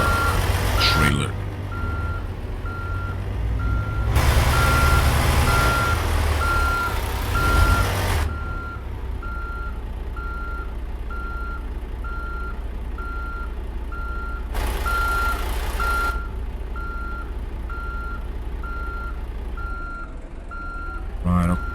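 In American Truck Simulator, a truck with no trailer reverses while its backup alarm beeps steadily and repeatedly. Low engine rumble runs underneath, broken by a few louder whooshing noise bursts.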